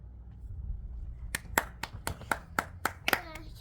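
Hand clapping in a nomadic home setting, about nine sharp claps in an uneven rhythm, close and fairly loud, with a voice nearby.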